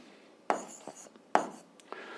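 Handwriting of a physics formula on a surface, a few quiet scratchy strokes and taps in short bursts, close and faint against near silence.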